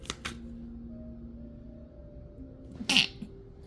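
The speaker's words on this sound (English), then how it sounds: "About to sneeze." A single sharp sneeze bursts out near the close, loud and close, after a stretch of quiet room tone with faint clicks and a low hum.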